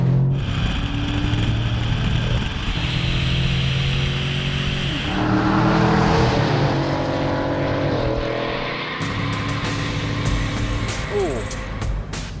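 A Coyote V8-swapped Ford F150 launches hard down a drag strip in 4-high, its engine note climbing loud and close in rising harmonic sweeps, shifting through gears, with wind roar building toward the end.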